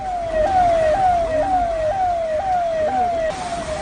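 A fire brigade truck siren wails along a flooded Mumbai street, a loud, close, steady cycle of repeating falling sweeps, about eight in quick succession, over a low rumbling background.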